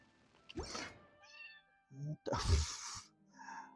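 A pet cat lets out an unusual meow, a couple of close vocal bursts separated by a short pause, with a person talking around them.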